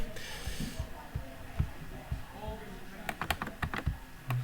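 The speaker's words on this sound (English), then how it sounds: "Okay, I have to type it in." Typing on a computer keyboard comes through as bursts of close, crisp key clicks, irregular at first and then quickening into a rapid cluster, with a voice speaking briefly near the start.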